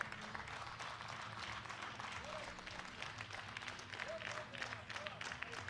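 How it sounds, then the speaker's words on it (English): Estonian and other fans at a European classic powerlifting championship applaud continuously, a dense wash of clapping and crowd noise with some voices heard over it. "And all the Estonians in the crowd, and many others as well, on their feet and clapping."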